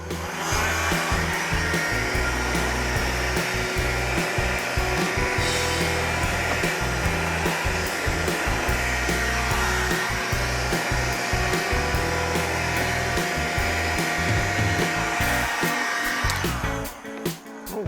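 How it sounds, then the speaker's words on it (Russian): Continuous loud whooshing roar of a hot air gun as it smooths tint film along a car's rear window, steady and close with slight fluctuations throughout, no talking. "Ну, теперь я также с помощью фена уберу эти стрелки."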